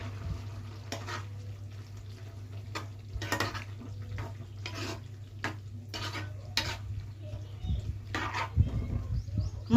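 A spoon stirs a thick broad bean and tomato curry with fresh chopped coriander in a pot, making repeated scraping strokes at a steady pace over a low, constant stove hum, close and moderately loud.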